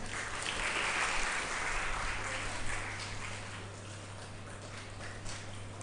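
Audience applause at a Children's Day interactive session as guests are called onto the dais, a dense, steady wash of clapping that swells early and then eases slightly, with a low steady hum underneath.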